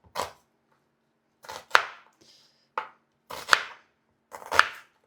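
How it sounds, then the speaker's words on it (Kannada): A knife finely chopping onion on a board, heard as several crisp clusters of quick chops separated by short pauses, close and clear with no talk. "ಆನಿಯನ್ ನೋಡಿ, ಇಷ್ಟು ನೀಟಾಗಿ ಚಿಕ್ಕದಾಗಿ ಕಟ್ ಮಾಡ್ಕೋಬೇಕು"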